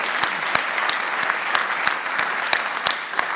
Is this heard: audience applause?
yes